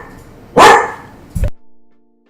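A dog barks outdoors twice: one loud, close bark, then a shorter second bark after a brief pause, with quiet background between.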